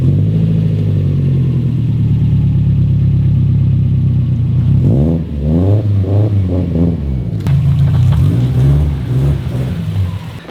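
A Subaru STI's engine runs at a steady idle rumble while the car backs up, with a few wavering shifts in pitch and a low mechanical clatter, close and loud, with no voices.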